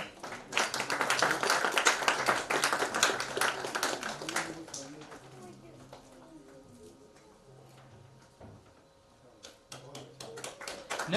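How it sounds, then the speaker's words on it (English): Audience clapping for a student award winner at a space science olympiad ceremony, loud and dense at first, then thinning into scattered claps with murmured voices underneath. "Please give a round of applause here"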